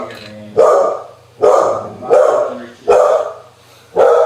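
A dog barking in loud, regular bursts, about five sharp barks spaced roughly a second apart, heard alone with no talk over them.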